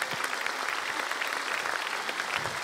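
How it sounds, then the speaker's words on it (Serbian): Studio audience applauding on a Serbian TV show, a steady wash of claps lasting a few seconds with no voices over it. "molim jedan aplauz za Mladena Todorovića"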